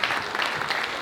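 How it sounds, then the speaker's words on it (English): An audience at a wholesaling monthly event claps, a brief, even burst of applause with no break. "give yourself a round of applause for being committed"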